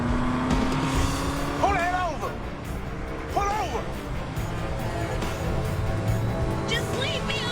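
Engine noise of a small car racing along with a big pickup truck in pursuit during a chase, steady and loud throughout, with tire-squeal-like wavering tones and voices talking over it.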